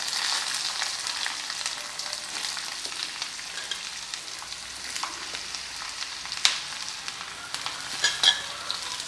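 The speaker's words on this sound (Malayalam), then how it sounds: "ഇനി അതിനകത്തോട്ട് നമ്മുടെ വാളരിപ്പയർ അങ്ങോട്ട് ഇട്ട് കൊടുക്കാം." Sword beans sizzle in hot oil with dried chillies and curry leaves, a dense, bright frying hiss that runs steadily and loudly throughout, close up, with occasional small crackles and pops breaking through.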